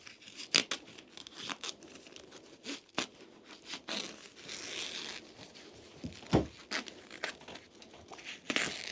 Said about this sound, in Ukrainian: ріжеш йому костюм. У нас травматичні ножиці, в них нічого страшного нема.